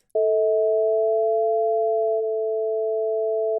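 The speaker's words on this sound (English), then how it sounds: "the sine waves were locking in" Two steady pure sine tones sound together, a smooth, unwavering perfect fifth held for over three seconds before cutting off abruptly.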